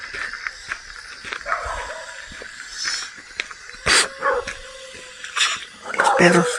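Several dogs bark in short bursts toward coffee plantations at night, some near and some farther off, with a voice talking over the barking.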